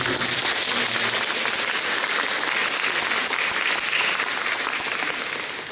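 A church congregation gives sustained applause for the children, a thick, even roar of clapping that holds steady before easing slightly at the end.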